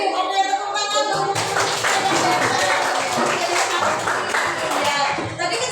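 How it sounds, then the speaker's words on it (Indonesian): A class of students claps together for a classmate during a school guidance and counseling session, a dense, steady burst of applause that starts a little over a second in and carries on to the end. "tepuk tangan dong"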